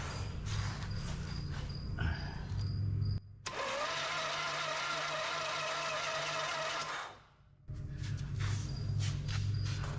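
A Harley engine on an off-road trike build cranks over with its oil pressure switch removed to prime the oil pump, a steady whirring churn of about four seconds between quieter background noise.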